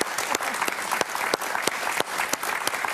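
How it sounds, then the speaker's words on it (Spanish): Dense audience applause greets an author and public speaker as she is introduced, many hands clapping steadily with a few sharper individual claps standing out, sustained and fairly close throughout. "Gloria Álvarez, un aplauso para ella."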